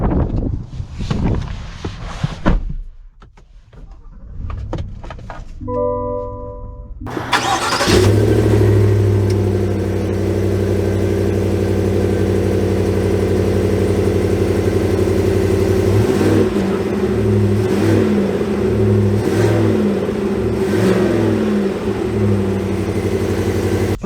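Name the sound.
2022 Chevy Tahoe Z71 engine driving off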